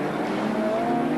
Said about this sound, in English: Joachim Winkelhock at the wheel of the BMW